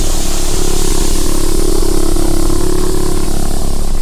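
A sci-fi door grows and shifts its matter with a steady, loud droning mechanical hum and rumble that holds throughout without pause.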